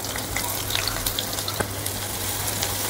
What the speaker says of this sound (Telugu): ఆనియన్స్ని మంచిగా గోల్డెన్ బ్రౌన్ కలర్ వచ్చే వరకు ఫ్రై చేసుకుందాం.